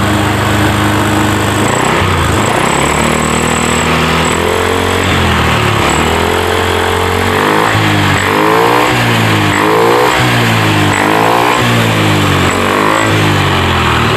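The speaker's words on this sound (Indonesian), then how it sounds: "motor sekarang jadi hidup ini" A Honda Beat motorcycle engine, hard to start, idles loudly and steadily, its pitch wavering and surging now and then as it revs, close by with no voices.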